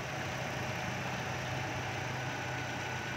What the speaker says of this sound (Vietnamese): cục máy nổ siêu êm